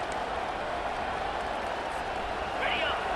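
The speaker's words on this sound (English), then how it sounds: "This crowd bringing the energy and noise early." Dense, steady stadium crowd roar in EA Sports College Football 25 filling the whole clip, a broad wash of many voices with a slight swell near the end.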